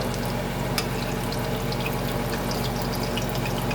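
Tonkatsu pork cutlets fry in a shallow pan with oil, giving a steady close crackling sizzle with bright pops and spatters throughout, no voices.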